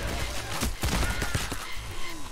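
Burst of gunfire in the heist game Payday, a rapid volley of close, loud shots layered over constant background game noise, with faint scattered sounds in between.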